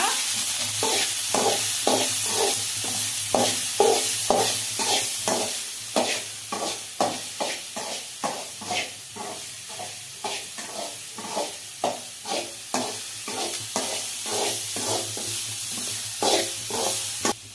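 Grated carrot is stirred into fried rice in a hot pan, a steady run of rhythmic scraping strokes, about one or two per second, over a soft continuous sizzle, close and with no talking.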